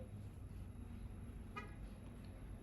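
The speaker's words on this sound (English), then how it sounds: "that little beep outside, the honking of the horn" A single short car horn beep sounds outside, faint and distant over a low steady background hum.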